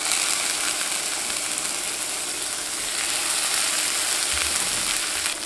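Swordfish steaks sear in avocado oil in a skillet, giving a steady loud hissing sizzle that continues without pause and without talk.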